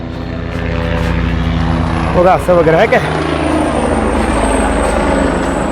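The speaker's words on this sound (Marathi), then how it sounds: "हेलिकॉप्टर बघा किती खालून चाललंय" A helicopter flies low overhead near tent camps at Kedarnath, its steady engine and rotor drone filling the scene as a loud, continuous roar while people talk close by.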